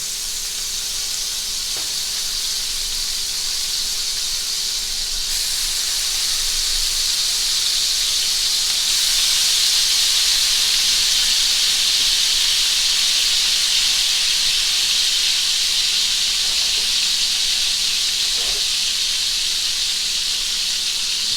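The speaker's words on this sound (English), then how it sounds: "I've taken the canned Cod Roe, there you go, and cut them into slices. And we're going to fry those up." Slices of canned cod roe fry in avocado oil and butter, giving a continuous bright hiss that holds steady throughout, with a few faint clicks and no talking.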